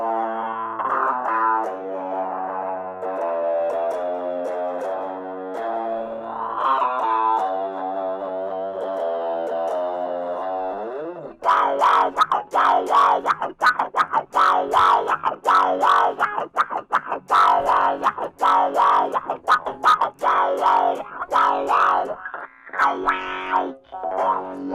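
An electric guitar runs through an MXR M222 talk box, first sustained notes with vowel-like wah shaping, then a busy stretch of choppy, distorted strummed chords with mouth-formed tones, loud and close without speech.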